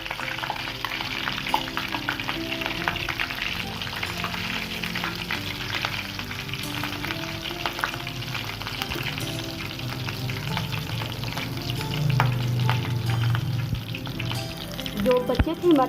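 Aloo anda kababs fry in hot oil with a continuous bubbling sizzle, close and steady for the whole stretch, with occasional light clinks and stirring, growing slightly louder toward the end.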